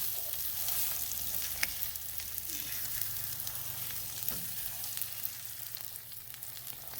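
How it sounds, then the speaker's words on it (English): Chorizo and eggs are scrambled in a frying pan, giving a steady, close sizzle and crackle with occasional scraping from the stirring utensil and no voices. "You don't want the chorizo to stick to the pan, so you carefully scramble them, making sure that it doesn't burn."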